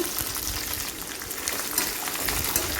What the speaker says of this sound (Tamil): நல்லா வதக்கி விடலாம் கொஞ்சம் அந்த வெங்காயம்லாம் பொன்னிறமாக வதங்கட்டும்